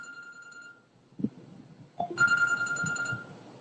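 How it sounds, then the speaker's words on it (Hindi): A mobile phone ringtone rings repeatedly, a bright electronic tone that sounds briefly, pauses with a few soft clicks, then resumes louder and sustained in a quiet room. "ये देखो फिर से फोन आ रहा है"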